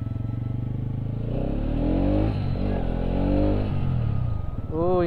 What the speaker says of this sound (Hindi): भाई साउंड चेक करो भाई, साउंड कतई ख़तरनाक है बाइक की।